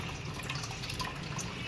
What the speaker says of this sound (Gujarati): આવી રીતે હાથે થોડી દાળને મસળી અને ધોઈ નાખવાની, એટલે દાળ એકદમ ચોખ્ખી થઈ જાય